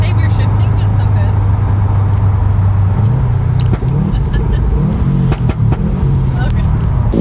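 A tuned Subaru STI pulls hard from inside the cabin, its loud engine drone holding steady, then dropping and rising again around a gear shift, with brief voices over the engine noise.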